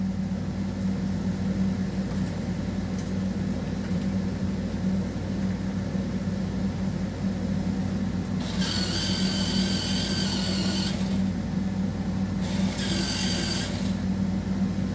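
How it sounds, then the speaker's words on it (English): An electric pencil sharpener grinds a pencil in two bursts of harsh, high buzzing over a steady low motor hum in a quiet room. "I'm going to go to an electric sharpener."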